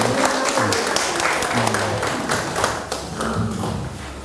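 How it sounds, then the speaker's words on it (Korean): An audience at a Korean lecture on plants and the environment claps together in a steady, fairly loud burst of applause that fades slightly near the end, with no clear speech over it. "박수."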